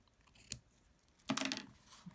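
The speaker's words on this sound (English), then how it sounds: "We'll just snip this off." Scissors snip through ribbon on a handmade wedding card, giving a brief crisp cut followed by a longer rustling snip and a small tap, close and quiet with no talking.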